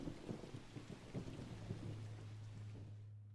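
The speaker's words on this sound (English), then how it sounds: "You can still hear thunder, but there's no rain." Distant thunder rumbles low and steady through a storm, with a soft wash of rain-like texture above it, fading toward quiet at the end.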